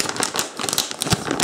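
A plastic bag of parts from an MST CFX-WS DC1 model car kit crinkles and crackles in quick, irregular bursts as it is unpacked close by, with no speech.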